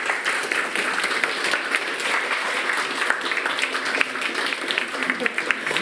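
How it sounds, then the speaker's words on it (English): Loud, dense applause from a meetup audience welcoming a speaker to the stage, sustained clapping from many hands that carries on steadily throughout without easing off. "Loud applause."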